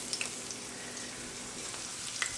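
Okra slices frying in hot oil, a steady close sizzle running evenly throughout with a few faint crackles and spits, no voices over it.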